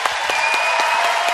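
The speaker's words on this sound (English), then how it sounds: "Please give them a huge round of applause." Dense, steady applause from a large audience welcoming judges back on stage at the Star Wars Celebration Orlando 2017 cosplay contest, filling the whole moment without any speech.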